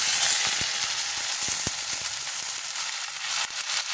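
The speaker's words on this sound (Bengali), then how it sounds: "ওই তেলেই ফোড়ন দিয়ে দিয়েছি। 5 ফোড়ন, শুকনো লঙ্কা, তেজপাতা ফোড়ন দিয়ে দিয়েছি।" Whole spices, dried red chilli and bay leaves sizzle and crackle steadily in hot oil, a dense continuous frying hiss with a few sharp pops, close and fairly loud with no talking.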